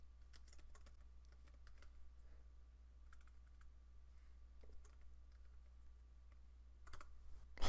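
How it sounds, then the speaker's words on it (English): Typing on a computer keyboard: quiet, irregular clicks of keystrokes close by, sparse at first and picking up near the end, over a low steady hum. "Let's type hello YouTube, I guess."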